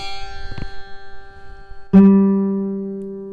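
A single plucked guitar third string rings out clearly after a faint earlier tap, sustaining a steady tone that slowly fades.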